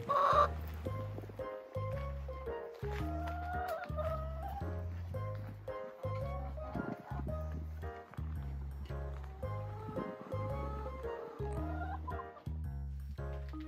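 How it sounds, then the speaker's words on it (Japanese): Brown chickens at a rural campsite cluck in repeated short bursts, close and fairly loud, with a steady rhythmic pattern of low clucks and occasional higher calls running throughout. "茶色い鶏がたくさんいました。"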